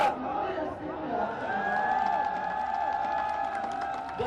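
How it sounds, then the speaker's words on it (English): Big crowd at a Vasundhara Raje campaign rally, a continuous roar of cheering and shouting voices with a sustained whistle-like tone running through it. "It was a pretty big crowd there."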